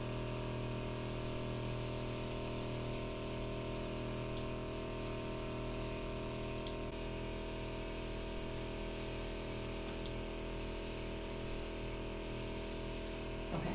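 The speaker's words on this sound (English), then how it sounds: "I'm going to airbrush her foundation and her bronzer" An airbrush sprays foundation makeup onto a face in a steady, continuous airy hiss, with a compressor hum underneath and a few brief changes in pressure. Nobody speaks.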